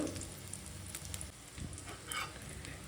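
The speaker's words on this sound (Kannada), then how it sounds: "ನೋಡಿದ್ರಲ್ಲ ಕಟ್ಲೆಟ್ ಚೆನ್ನಾಗಿ ಬೇಯ್ತಾ ಇದೆ." Corn cutlets frying in a pan give a steady, close crackling sizzle that runs the whole time, with a few brighter pops and no voices.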